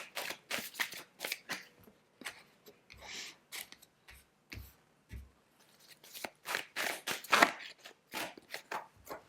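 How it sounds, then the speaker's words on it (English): Tarot cards are shuffled, drawn and laid out for a Celtic cross spread, making a run of crisp, close papery flicks and slaps in quick bursts with short pauses, and no voice. "Let me draw out the cards for your Celtic cross."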